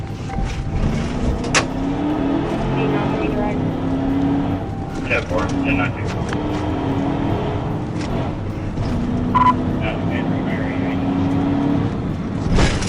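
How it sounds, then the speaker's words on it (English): A Kia speeds recklessly down Indian Hills Road in a police pursuit, its engine and road noise surging steadily while a voice talks over the chase throughout. "The pursuit quickly moved onto Indian Hills Road with the suspect driving recklessly at high speeds."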